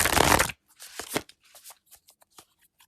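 Oversized tarot cards are shuffled by hand: a loud, close riffle burst at the start, then a scattering of softer taps, slides and flicks as the large deck is squared and handled, with no voices.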